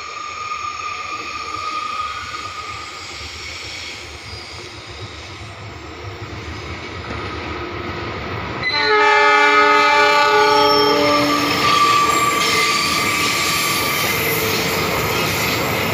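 A Pangrango passenger train runs fast over curved rails between Kebon Kalapa and Batakal, its loud rumble joined midway by a piercing, sustained wheel squeal that stays close and prominent to the end.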